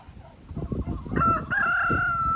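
A rooster crows loudly and close by on a homestead, a drawn-out cock-a-doodle-doo rising over background clucking and rustling.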